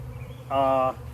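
Honeybees around a newly set up hive give a brief, close buzzing drone lasting under half a second, rising out of low background noise.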